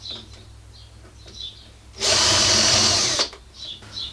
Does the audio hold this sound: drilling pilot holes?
yes